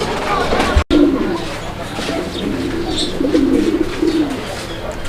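A racer pigeon of an uncommon color coos in low droning bursts against a steady background hiss, close by, with a sharp click or bump near the start.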